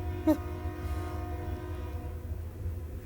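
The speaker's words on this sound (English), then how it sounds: "Sorry, live right across from train tracks. This always happens to me." A train rolls past on tracks right across from a home, a low steady rumble throughout with a short horn-like blast near the start.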